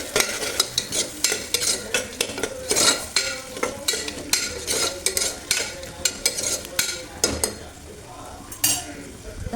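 Onion and curry leaves for khara pongal fry in a pan while being stirred, giving steady close sizzling broken by repeated scraping strokes of a spoon against the pan, loud throughout with no talk.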